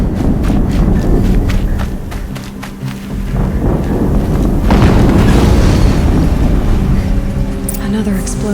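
A booming explosion erupts midway through a stretch of rumbling action in the video game Horizon Zero Dawn, loud and close, set against a dense bed of thuds and game noise.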